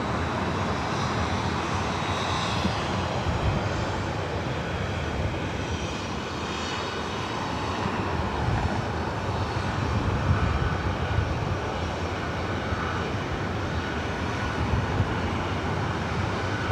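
An old ex-TWA Boeing 757, delivered in 1999, passes at Los Angeles airport with a sustained loud engine roar and rumble that holds steady for the whole stretch, no voices.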